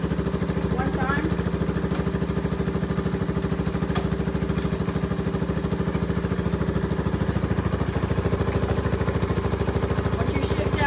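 A four-wheeler ATV engine idles steadily in neutral, a continuous low, even rumble with a fine regular pulse holding at the same loudness throughout, close by with no talk over it.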